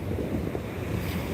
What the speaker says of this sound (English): you're looking at the ocean, at the waves, high tides